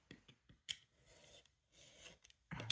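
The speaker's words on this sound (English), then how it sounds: "I'm just going to trim these edges off, and I am going to use my straight, my," A utility knife trims the edges of paper in a craft project, giving short, close scraping and slicing strokes in irregular bursts with quiet gaps between them and a louder rasping cut at the end.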